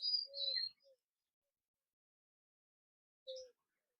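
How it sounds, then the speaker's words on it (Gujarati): Faint, sparse bird chirps on a farm: a short cluster of high tweets at the start, a long silence, then one more brief call near the end, with no voices. "પક્ષીઓનો કલરવ એવો હોય અત્યારમાં તો."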